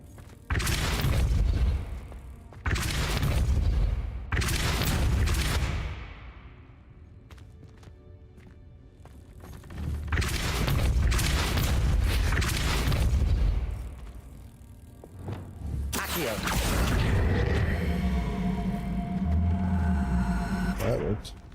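Depulso spell cast in Hogwarts Legacy, heard as a run of loud, booming magical bursts with crackling, shattering tails, each separated by brief lulls amid game ambience and occasional voices.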